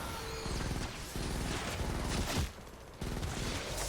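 Rapid automatic gunfire from the Terminator gun in the Fortnite Save the World video game, loud dense bursts of shots in a fast rattling stream with brief pauses in between, heard alone without talking.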